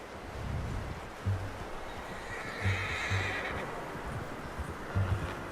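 A horse in the video game Red Dead Redemption whinnies loudly and nearby, with hoof clip-clops and a soft wind-like background wash; several short snorting bursts recur across the stretch.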